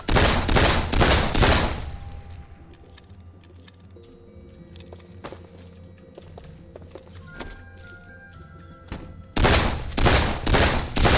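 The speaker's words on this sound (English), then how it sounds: "shotguns work as they always did" Shotgun gunfire in the video game Intravenous 2, heard as rapid clusters of loud sharp blasts at the start and end, with a quieter stretch of clicks and game tones in between.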